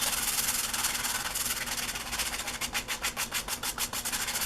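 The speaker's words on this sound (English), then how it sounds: "I brought the pieces inside to do some light sanding" Abrasive rubbing of sandpaper by hand on wooden pieces indoors, close up, shifting into quick rhythmic back-and-forth strokes toward the end.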